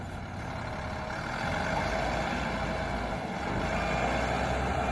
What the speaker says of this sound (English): Equipped with a 588 kilowatt diesel engine and a specialized design for the mining environment.